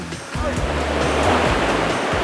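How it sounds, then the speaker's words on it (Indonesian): Ocean waves crash loudly onto the shore right next to the listener, a continuous roar of surf with low rumbling beneath. "ombaknya di sini lumayan mantap"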